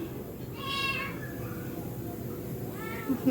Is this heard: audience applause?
no